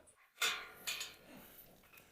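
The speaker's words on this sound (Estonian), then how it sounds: "Vaata, kutsikad kutsuvad sind." Newborn puppies give faint high whimpering yips, two short soft cries a moment apart, heard close but quiet against a low ambient hush.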